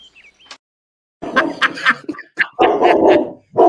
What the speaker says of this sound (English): now you hear the dogs because they're down here with me